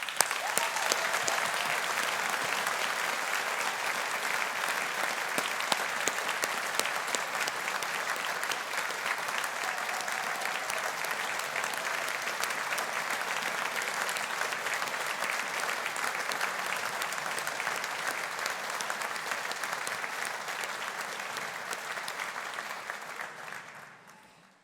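An audience applauds graduates at a Strathclyde Business School graduation ceremony, with sustained, dense clapping from a large crowd holding steady for over twenty seconds before tapering off at the end.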